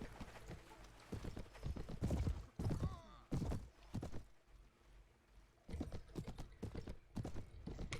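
Horses clatter along at a gallop in a Viking-era battle video game, rapid hoofbeats surging in loud bursts over a busy battlefield din.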